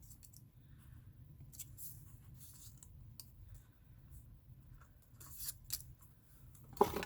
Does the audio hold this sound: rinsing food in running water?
no